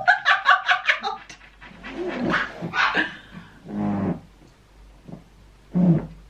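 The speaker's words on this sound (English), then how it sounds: "If you hear the dog bark, it's because when I like shout and get all giddy" A dog barks in a rapid, excited series of yips and barks, close by, followed by quieter voices and a few scattered sounds.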